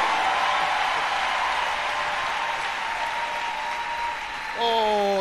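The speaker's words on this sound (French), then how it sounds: "Acclamons Jésus." A church congregation applauds, steady dense clapping sustained for several seconds, with a voice rising over it near the end.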